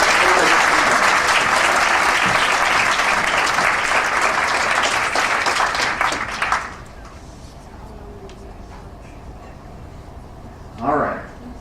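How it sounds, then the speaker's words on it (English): Loud sustained applause from a hair show audience fills the first six and a half seconds, then cuts off to near quiet, with one brief burst of clapping or noise near the end. "So one more round of applause."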